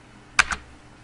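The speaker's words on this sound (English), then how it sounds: "simply hit the Enter key, located towards the middle of the keyboard." Two quick, close clicks sound as the Enter key of a computer keyboard is pressed in Microsoft Word, then quiet.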